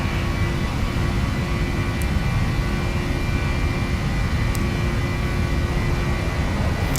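A Boeing 737 NGX jet in a flight simulator spools up for takeoff, a steady, loud engine roar with a broad rumbling low end and a thin whine above, constant throughout with no voices.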